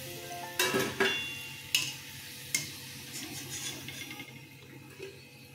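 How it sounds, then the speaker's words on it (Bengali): Sweet potato balls frying in oil over medium flame with a steady sizzle, broken by a few clinks and scrapes of stirring, close by, no voices. "মিডিয়াম ফ্লেমে আমি এগুলো ভাজছি, লাল করে নিচ্ছি"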